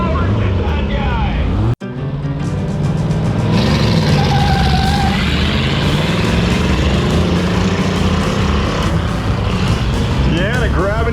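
Race cars at the RPM Nationals roar loudly and continuously, their engines holding high revs as they shift into second gear, with a sharp break in the sound early on and a voice talking over the din.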